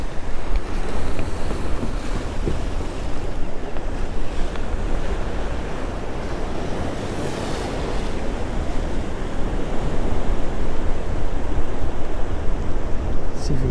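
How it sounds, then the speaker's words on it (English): An airboat driven by a large, overpowered fan runs on open water nearby, producing a loud, steady roar with wind buffeting throughout and no pauses. "these guys have a freaking overpowered fan on their back and they fly."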